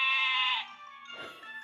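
A goat in the video game Twisted Wonderland gives one loud, nasal, wavering bleat lasting about half a second, then a soft shuffle as it trails off.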